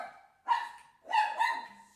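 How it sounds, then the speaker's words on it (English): Dogs barking at a delivery arriving at the house, two close bursts of loud, layered barks with a short pause between them, and no talking. "Dogs are barking because I guess Amazon is here"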